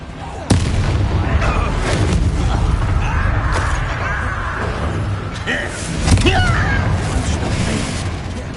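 The Bombarda explosion spell in Hogwarts Legacy goes off as a sharp blast near the start, then rumbles, creaks and debris clatter follow, with a second burst later, under game dialogue.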